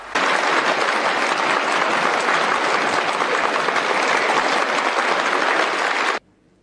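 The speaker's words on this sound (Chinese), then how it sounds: "让我们以热烈的掌声 欢迎江泽民同志为我们做重要讲话" Warm, sustained applause fills a large meeting hall welcoming Jiang Zemin to give a speech, a dense, even roar of many hands lasting about six seconds before cutting off abruptly.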